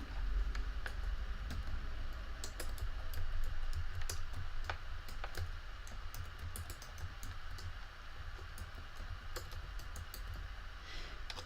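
Fingers typing on a computer keyboard, giving rapid irregular clicking keystrokes over a steady background hum, close and moderately quiet with no talking.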